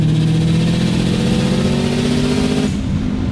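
The 400 hp Subaru WRX Bugeye engine roars loud and near under acceleration, with the pitch rising steadily and then cutting off abruptly near the end as the car shifts. There is no talking.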